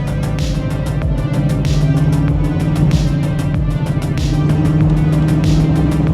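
A rowdy classic car engine runs steadily and loudly from inside the cabin, a deep, rumbling idle with a rapid, pulsing throb and no talk over it.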